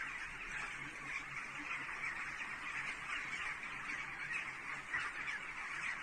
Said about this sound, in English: Those aren't leaves in those trees. Those are birds